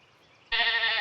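A single sheep bleat in a bear simulator video game starts halfway through, loud and sustained after a faint lull.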